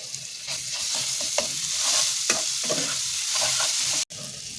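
Turmeric and spice pastes fry in hot oil for a potato dish, a loud continuous sizzle broken by several scraping stirs before a sudden cutoff near the end.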